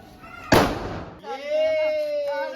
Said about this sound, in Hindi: तुषार पहला पटाखा था इस दिवाली का, पता तुम्हें?